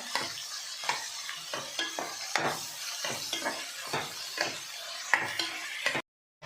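Onions fry in a pan for a tomato bath, soft sizzling under repeated nearby stirring scrapes and light utensil knocks, ending in a sudden brief silence.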